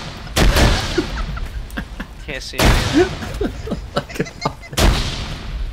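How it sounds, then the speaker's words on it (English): Explosions and gunfire in a multiplayer video game. Three heavy booms land about two seconds apart, with scattered sharp shots between them, while players talk over the noise. "Why is there so many explosions?"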